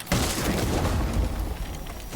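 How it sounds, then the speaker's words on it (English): A frag grenade explodes in the Rainbow Six Siege video game, a sharp loud boom with a rumbling tail that decays over about two seconds. "The frag grenade not successful in killing him"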